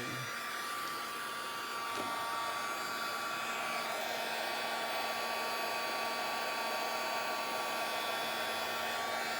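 An embossing heat tool blows hot air in a steady, loud, unbroken whir that holds for the whole stretch, close to the microphone, with no voices.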